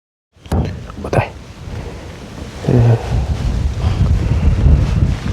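Gusty wind buffets the microphone outdoors, a loud continuous rumble that swells and stays strong, with a few sharp knocks near the start.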